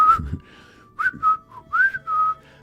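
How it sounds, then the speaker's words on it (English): A person whistles a short, wavering tune in several separate bursts, clear and close, with brief pauses between the notes. "let's just whistle for a bit"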